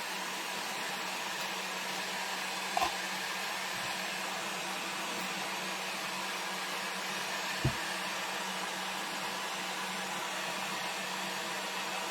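A hair dryer blows on a shamrock home decor craft, a steady, close, continuous whooshing hum with two faint brief knocks partway through, and nobody talks.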